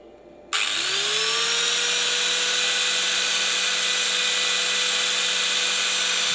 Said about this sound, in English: I wonder if the grinder will still go off